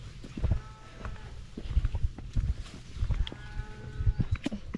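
Livestock on a farm, a cow waiting to be milked, gives low calls and shuffling sounds at close range, with irregular bursts of activity across the clip.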